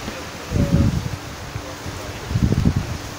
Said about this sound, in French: Le vent est super violent, la pluie aussi